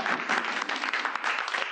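A short, even burst of clapping from a group, fairly close and continuous, with no talking over it.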